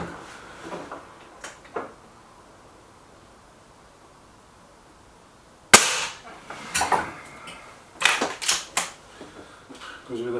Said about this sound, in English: Goes with a fair crack, this gun does.